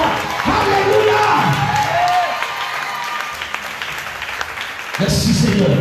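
A church congregation at a Sunday service applauds and cheers in a loud, continuous crowd roar that fades midway and then surges back strongly near the end, with voices mixed through it.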